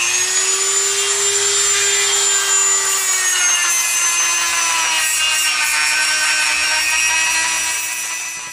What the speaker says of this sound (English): Now the Dremel tool is where you take off all the little ridges and make everything matched.